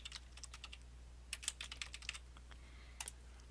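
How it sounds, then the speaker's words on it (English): Someone typing a name on a computer keyboard in a spreadsheet, a quick run of close, crisp key clicks in uneven bursts over a low steady hum, no voices. "I'm going to type my name again."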